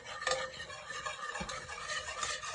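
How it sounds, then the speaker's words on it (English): A coconut dessert mixture with gelatin being whisked in a bowl, brisk continuous scraping and swishing, close and moderately loud, with a few sharper taps against the bowl. "Whisk this till it's nice and smooth."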